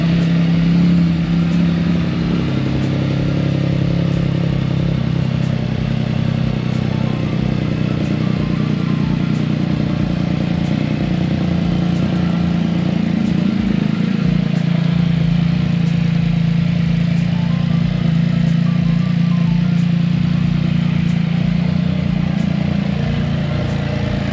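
A Can-Am engine idles steadily and loudly nearby, a continuous low rumble with a faint regular ticking above it.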